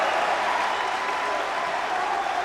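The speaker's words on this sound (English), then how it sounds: "Crowd comes to life." Crowd at a high school basketball game on jersey night cheers and applauds in a steady, loud roar from the stands, with the student section joining in and a dense wash of noise throughout.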